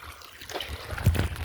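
Irrigation water trickles and splashes out into an onion field, a faint, close gurgle that swells slightly near the end, with soft background noise and no clear talk.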